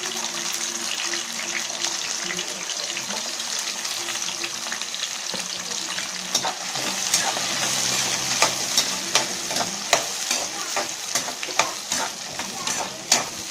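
Shallots and garlic sizzle steadily in a hot pan while a utensil scrapes and stirs in regular strokes, close up, with no voices.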